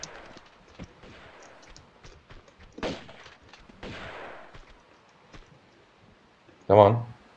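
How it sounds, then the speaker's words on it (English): A single shotgun blast from an enemy in Tomb Raider 2 rings out sharply near the end, after quiet stretches with a few faint thuds and soft in-game sounds. "Oh, another shotgun guy."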